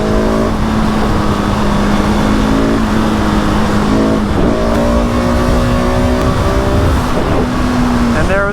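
2020 Husqvarna 701 motorcycle pulling through first, second and third gear into a wheelie: loud, close engine revs climbing in pitch with each gear, dropping briefly at the shifts, under wind noise.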